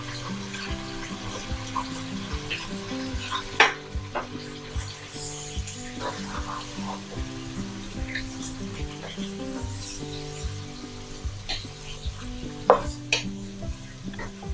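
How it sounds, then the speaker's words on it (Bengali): Fried onions being stirred into beef haleem in a pot, a steady sizzle with scraping and clinking of the spoon, plus a couple of sharper knocks against the pot. "নেড়ে চেড়ে বেরেস্তাটা মাংসের সাথে মিশিয়ে নিতে হবে"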